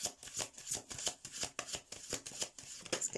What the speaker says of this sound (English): This one came out and landed like that as I was shuffling.